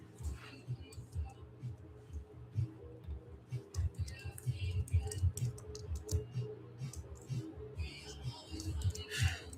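Computer keyboard typing, with irregular light key clicks and taps scattered over several seconds, quiet and close.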